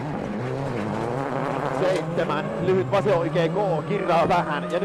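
Mikko Hirvonen's WRC rally car spins on stage 13 of a 2007 rally, its engine revving and tires scrabbling while a commentator talks over it throughout.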